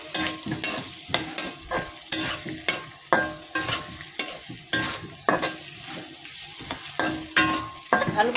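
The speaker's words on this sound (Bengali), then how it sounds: "আমি আলুগুলো ওইভাবে ভালোভাবে কষিয়ে নিচ্ছি" Cubed potatoes sautéing with ginger and cumin paste in a pan, loud sizzling broken by rhythmic scraping strokes of a spatula, steady and close, with no voices.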